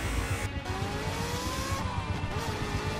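A Japanese-built postal van's engine strains and revs during a chase, a steady close motor drone with rising and falling pitch sweeps under a low rumble, with no voices.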